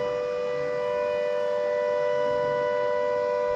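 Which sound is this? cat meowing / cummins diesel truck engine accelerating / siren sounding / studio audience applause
siren sounding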